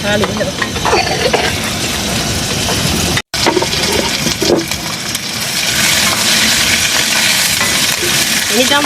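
Green chillies and small shallots sizzle steadily in hot oil for a tempering, with stirring scrapes, a loud continuous frying hiss filling the pan close up, broken by one brief silent gap.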